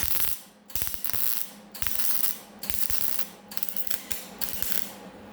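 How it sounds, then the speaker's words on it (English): MIG welder laying beads on thin sheet metal, with repeated bursts of crackling buzz separated by short pauses, close and fairly loud, no talking. "I'm going to start running beads now."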